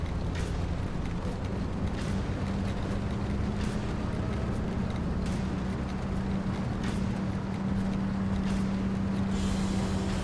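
A car driving in the video game Pacific Drive, heard as a loud, continuous engine drone with steady road rumble and broadband noise throughout, no voices over it.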